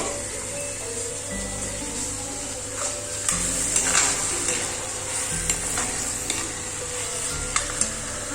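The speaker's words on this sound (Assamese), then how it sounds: "গেছৰ ফ্লেমটো মই কমাই পেলাই জাতিলাওখিনি অলপ সময় ভাজিম" Bottle gourd pieces fry in a pan over a lowered gas flame, giving a steady soft sizzle with occasional light stirring clinks and a low hum underneath.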